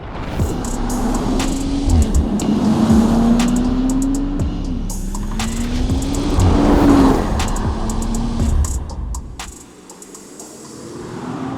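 Audi RS5 plug-in hybrid estate car driving hard, its engine rising and falling through several gear changes in a repeating accelerating whine, loud and close, then easing off and quieting near the end.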